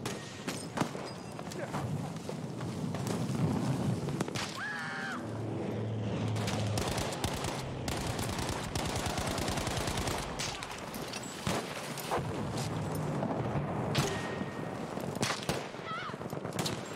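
Constant rattling bursts of video game gunfire and machine-gun fire, heard continuously and fairly loud, with a player talking over the action throughout.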